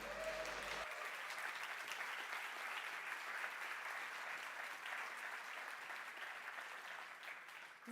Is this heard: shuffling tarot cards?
no